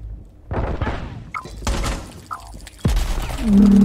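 Rainbow Six Siege gunfire, a few sharp bursts of shots with impacts and thuds from the game, loud and close, with brief electronic tones between them and a steady tone building near the end.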